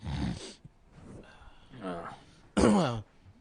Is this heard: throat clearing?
yes